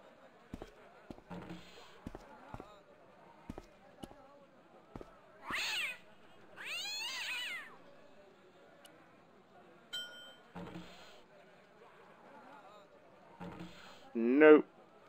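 Cat meowing in the point-and-click game Broken Sword: Shadow of the Templars, two clear meows mid-clip among sparse game clicks and taps, with a voice speaking faintly in places.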